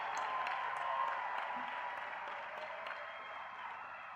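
Graduation crowd cheering and applauding at the Community College of Baltimore County 2025 commencement, a steady broad wash of many voices and clapping that holds loud throughout, easing slightly toward the end.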